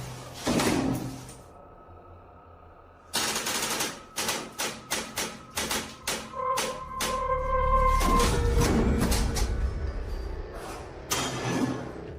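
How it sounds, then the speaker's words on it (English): A door is forced and burst open from the other side in a reportedly haunted building, heard as a quick series of loud rattling bangs and thumps, then a heavier crash and sustained rumble, with no talk. "It shoves something in the empty hole where a doorknob should be, and soon it bursts the door open"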